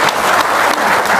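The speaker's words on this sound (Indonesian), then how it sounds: "tepuk tangan dong" Loud, dense crowd applause at an Islamic religious gathering in Lampung, a brief continuous burst of many hands clapping together.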